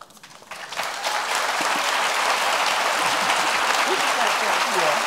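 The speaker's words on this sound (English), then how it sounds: "Even our names are enough to elicit applause" Audience applause greeting a panel introduction at a historical discussion, swelling within the first second into a dense, sustained wash of clapping from a large crowd that carries on steadily to the end.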